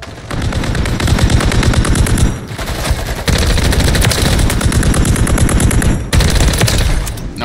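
Rapid gunfire in a shooter video game, dense continuous bursts filling most of the span with brief breaks between volleys, loud and up front.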